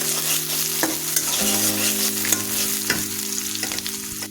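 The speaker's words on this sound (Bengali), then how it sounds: "তেজপাতা আর গোটা গরম মশলা দিয়ে দিলাম, ভালোভাবে নাড়াচাড়া করে নিচ্ছি" Bay leaves and whole garam masala fry in hot oil in a kadai, a steady sizzle broken by a few sharp scrapes and clanks of a spoon stirring against the pan, close and fairly loud, with no voices.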